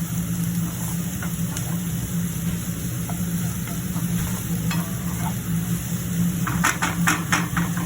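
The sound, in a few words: green chillies frying and being stirred in a pan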